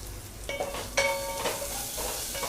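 Onions sautéing slowly on a low flame for okra or idli sambar: a gentle, close sizzle with a few spoon-stirring scrapes and light clinks against the pan.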